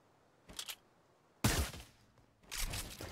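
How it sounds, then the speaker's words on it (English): SMG fire in a shooter video game comes as short, crisp bursts, a quick stutter, then a louder sustained volley and another burst after a brief pause, fairly quiet overall. "Shoot me one time with your SMG"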